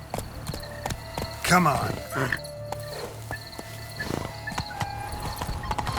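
Horse hooves clip-clopping in The Witcher 3, a steady walking rhythm of soft thuds running through the whole stretch, with a brief snort or whinny near the middle and a voice speaking briefly over it.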